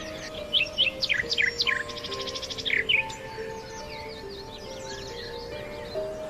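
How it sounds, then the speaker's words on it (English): Several birds singing, with quick bright chirps and warbled trills in repeated bursts at close to medium range, over a steady low background hum. No one speaks. "Keats imagines the birdsong echoing through time."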